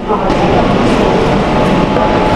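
Loud, steady rumble of a Kolkata Metro Green Line train running between Sector V and Howrah Maidan, a dense continuous roar with rattling undertones and no distinct voices.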